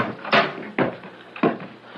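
A wooden door opens in a vintage radio drama, with three distinct knocking-like clunks and creaks spaced evenly, close and moderately loud, with no voices.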